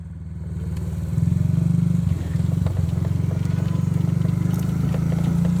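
Dirt bike ridden for the first time, its engine a close, loud, steady buzzing putter that rises quickly at the start, briefly dips, then holds a choppy rhythmic drone throughout.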